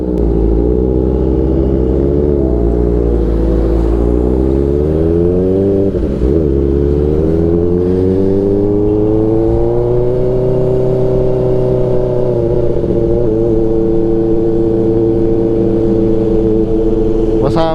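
A Kawasaki ZX-4RR motorcycle engine hums and revs up and down in long, smooth sweeps, loud and close, with a brief dip midway and a sharp blip at the end.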